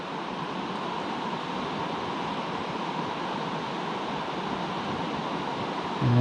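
Sultan River water flowing at an inlet to Spada near the Greider Lakes, a steady, broadband rush that stays even and continuous throughout with no talking.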